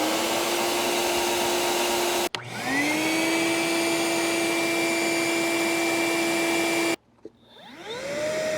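An NXT shop vacuum runs loud and steady with a rising whine, cuts off abruptly, restarts and runs on, then stops again before another motor spins up at the end. No voices.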